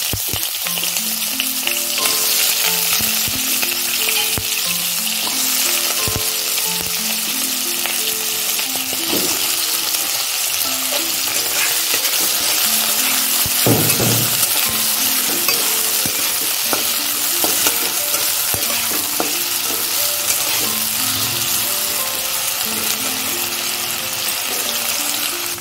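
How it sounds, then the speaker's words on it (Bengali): Potatoes frying in a pan over already-fried tempering spices for a Bengali jhinge alu posto dish: continuous sizzle with repeated scraping and stirring strokes of a spatula, close and loud, without talk. "এর মধ্যে আমি আলুগুলো দিয়ে লাল লাল করে ভেজে নেব"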